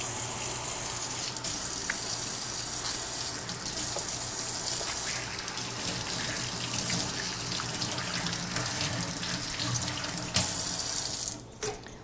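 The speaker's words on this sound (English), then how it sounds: "Wash my fingers." A kitchen tap runs in a steady gush as fingers are rinsed under the water, continuous and fairly close, with no talk.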